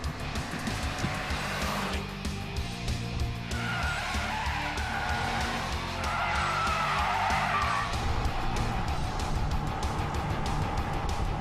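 A Mitsubishi Lancer Evolution engine pulls hard at high RPM, giving a loud, continuous roar mixed with tire noise and brief rising pitch sweeps as the revs climb.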